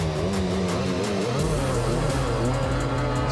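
A Honda dirt bike and a Yamaha Tri-Z race off the start, their engines revving hard and rising in pitch, loud and continuous with overlapping engine tones.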